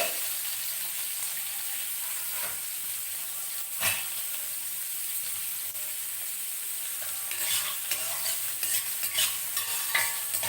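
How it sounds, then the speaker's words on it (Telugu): Chopped onions sizzle in hot oil for a sprouted green gram (pesalu) curry, a steady close frying hiss broken by occasional spatula scrapes and a louder burst of stirring near the end. "ఉల్లిపాయలు కూడా బాగా వేగాలి"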